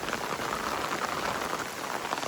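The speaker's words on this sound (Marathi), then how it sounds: "पाऊस पण आहे सुरू" Steady rain falls continuously, a dense hiss of drops pattering on surfaces, close and even throughout with no voices.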